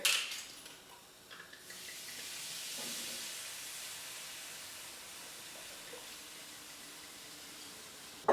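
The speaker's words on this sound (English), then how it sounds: "And in with our bottle of wine" A whole bottle of wine goes into a hot pot of beef bourguignon on a gas ring, giving a steady, soft sizzling hiss that swells and then settles, close by and alone.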